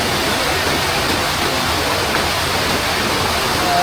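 Ratnaella waterfall in heavy flow, a steady, dense rush of falling water that holds evenly loud and close throughout with no voices.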